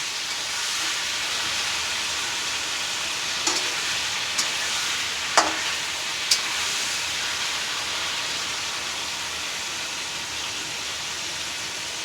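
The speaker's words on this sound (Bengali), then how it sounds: "মাংসটা একটু ভাজা ভাজা হয়ে যাক" Chicken marinated with salt and lemon fries in a pan, a steady loud sizzle and hiss throughout, with a few sharp clicks and spits of oil popping now and then.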